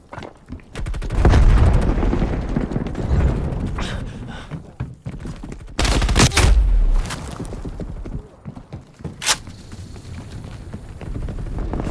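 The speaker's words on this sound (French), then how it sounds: "Je lance une grenade à fragmentation." A fragmentation grenade blast in a Call of Duty Cold War multiplayer match on PC, heavy low booms landing amid loud bursts of rapid gunfire and sharp shots throughout.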